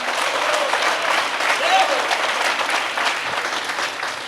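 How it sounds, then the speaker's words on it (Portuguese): A church congregation applauds steadily, a dense, even wash of clapping that fills the whole stretch without pause, loud and close. "se for para Ele, pode aplaudir, irmão"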